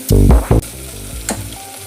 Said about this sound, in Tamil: ஒரு 2 நிமிஷம் தக்காளி நல்லா வதங்கட்டும்.